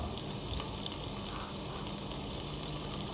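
Steady, close sizzling of garlic ginger paste frying in hot oil for white chana curry, a dense crackling hiss with small pops throughout, no voices.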